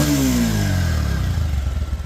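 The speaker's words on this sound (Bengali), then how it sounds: "এই দেখেন গাড়ির সাউন্ড হচ্ছে।" A secondhand motorcycle engine runs close by, its pitch sliding down from a rev into a lumpy, pulsing idle with a rapid mechanical chug toward the end.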